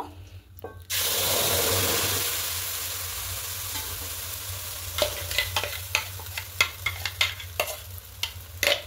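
Ground lentil paste poured into hot fat with asafoetida in a frying pan, a sudden loud burst of sizzling that slowly settles, then a series of sharp scraping stirs toward the end, no voices.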